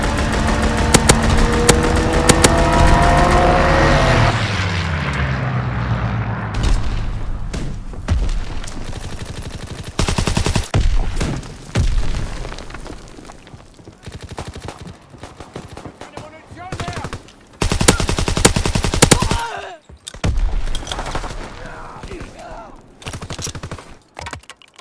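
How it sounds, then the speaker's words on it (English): Rapid bursts of machine-gun fire from a fighter aircraft strafing run in the Call of Duty WWII game, loud and dense over an engine drone, with heavy volleys recurring in stretches and an aircraft pass early on. "Fighter aircraft ready for strafing run."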